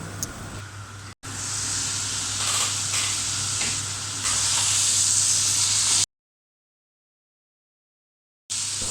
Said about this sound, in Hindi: वेजिटेबल हमारी अच्छे से फ्राई हो चुकी हैं